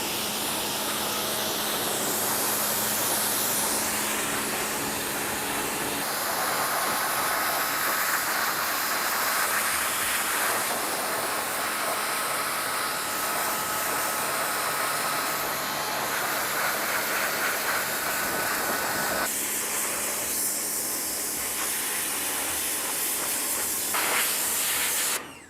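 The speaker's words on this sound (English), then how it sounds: "I'm going to use a pressure sprayer, and I'm really going to wash the tree down very well." A pressure sprayer washing down a Chinese elm bonsai in winter, giving a steady loud hiss of spraying water that runs unbroken for the whole stretch, close up, with no talk.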